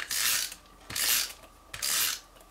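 A snail adhesive tape roller pressed along white and black cardstock, three short, even rasping passes with brief pauses between, close and clear.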